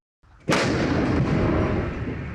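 A tank's main gun fires on command in a single close, loud blast that cuts in sharply and rolls on as a rumbling boom, with no talk over it.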